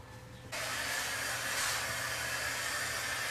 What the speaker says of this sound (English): I'm using a heat gun to kind of speed up the hardening process here